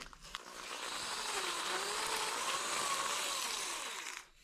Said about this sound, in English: I got the sandpaper and the dewey back on there, so let's see what I can do